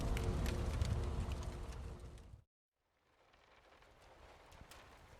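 Steady rain falls as a dense, close hiss, cuts out abruptly for about half a second, then returns softer and continues as a quieter wash.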